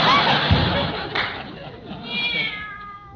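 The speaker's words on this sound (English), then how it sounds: "There's a good kitty." A cat meows a few times, close and fairly loud, mixed with a woman's speech and a brief thump.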